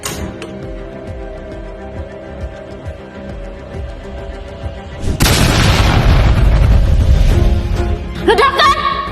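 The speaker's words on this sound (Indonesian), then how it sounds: "Ledakan!" A deep, loud boom from a kitchen stove erupts midway, rumbling and crackling for a few seconds after a stretch of quieter tonal background, then fades under clattering.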